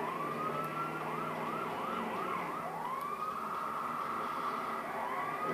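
A police car siren wails in continuous rising and falling sweeps, loud and steady throughout, with no talk over it.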